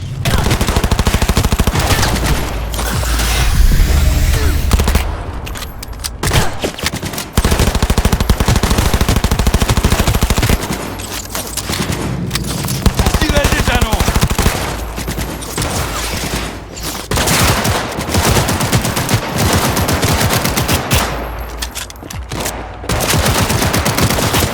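Rapid video-game gunfire from Cyberpunk 2077 and GTA 5, dense automatic bursts and single shots in loud stretches broken by short pauses.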